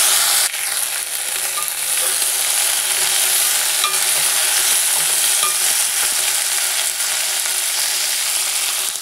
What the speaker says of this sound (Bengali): এর মধ্যে আমি দিয়ে দিচ্ছি কুল।